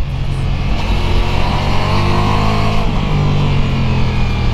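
A 2021 Ducati Multistrada V4S, a 170 hp motorcycle, runs hard on a race track, its engine a loud, steady drone under strong wind rush throughout, with no talk.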